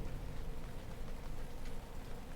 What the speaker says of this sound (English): I've got rain in the background of my scene.